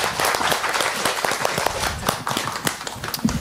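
A small audience gives a singer another round of applause on a Swedish show, a loose burst of individual hand claps, fairly close and uneven, with no speech over it.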